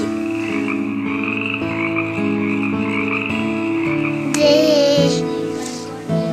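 Loud, continuous croaking of frogs in overlapping, tonal layers, sustained throughout with a shift to a brighter chorus near the end.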